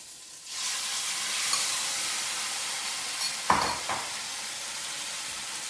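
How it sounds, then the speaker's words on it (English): Oil bursts into a loud, steady sizzle in a hot wok and keeps crackling, with a brief metallic clatter partway through. "We'll drop that in. It sizzles"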